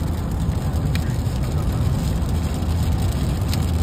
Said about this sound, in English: it's just that giant wall of rain